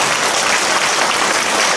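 Church congregation clapping in praise, a brief burst of loud, thick applause that fills the whole moment evenly with no break.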